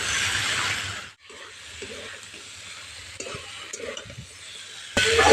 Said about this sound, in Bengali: ডাঁটাগুলো এর সঙ্গে ভালো করে একটু ভেজে নেব।